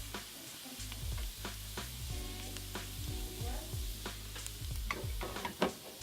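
Herbs sizzle steadily in hot oil as they infuse it for hash browns, a close, continuous crackle with scattered sharp pops and a few soft clinks of a utensil working them in.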